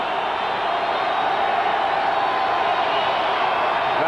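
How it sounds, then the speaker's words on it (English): Stadium crowd at a 1986 NFL game between the Bengals and Broncos in Denver, a dense, loud, continuous roar from a large outdoor audience with no single voice standing out. "Crowd noise intense for Esiason on second down and 10."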